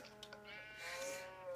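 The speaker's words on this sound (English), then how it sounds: "Now shear that sheep right there" A sheep in a video game gives one drawn-out, wavering bleat, faint and steady for over a second, with no talking over it.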